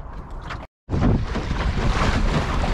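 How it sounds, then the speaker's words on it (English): A gust of wind buffets the microphone while sailing on a busy lake, a loud, rushing roar with water noise that cuts out briefly and then returns stronger and sustained. "We've just had a little gust."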